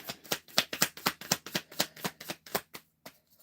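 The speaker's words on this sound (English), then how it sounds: "Two more shuffle flip throughs." Tarot cards are shuffled and flipped through in a quick series of crisp riffling snaps, about a dozen close, distinct bursts in a regular rhythm that slows and fades toward the end.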